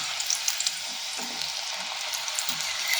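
Sweet potato fries frying in hot oil give a steady, close sizzle with bright crackling pops scattered throughout, continuous and without any talking over it.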